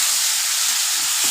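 Diced potatoes tossed into a hot pan with egg for Bengali aloo chochchori, sizzling and frying in a steady, close hiss with a few soft stirring scrapes.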